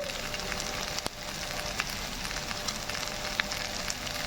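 Pieces of colocasia (taro root) fry in oil with turmeric, giving a steady, close sizzle with occasional small pops and crackles, and no talking.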